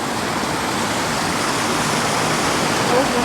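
A town fountain in Rhyl, North Wales, its basin littered with carrier bags and cans, runs with a steady, loud rushing splash of falling water that holds without a break.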